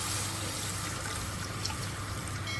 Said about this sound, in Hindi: देखिए दूध मैंने शामिल कर दिया।